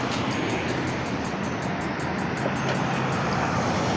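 Cars pass along a street in a continuous broadband road rush, fairly loud and close, with a rhythmic high-pitched pulsing over it.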